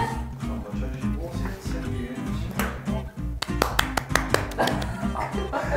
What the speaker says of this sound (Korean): 세 명 박수 치라고